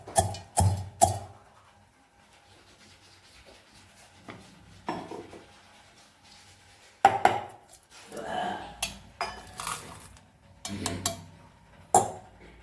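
Irregular bursts of knocking and grinding from a pestle in a stone mortar crushing ingredients for thecha chutney, several sharp clacks in clusters separated by quiet pauses.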